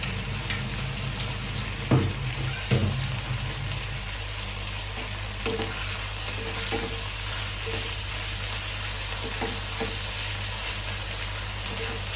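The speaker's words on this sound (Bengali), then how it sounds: "একটু পেঁয়াজটা একটু হালকা ভাজা ভাজা হয়েছে।" Onions, with crushed garlic and grated ginger, fry in a pan for egg tarka: a steady close sizzle runs throughout, broken by a couple of stirring scrapes and clanks early on. No one speaks.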